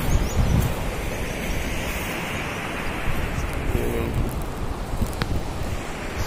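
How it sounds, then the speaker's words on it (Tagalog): Seaside wind blows steadily into the microphone with a constant rushing roar, and waves wash in underneath throughout. "Sarap ng simoy ng hangin."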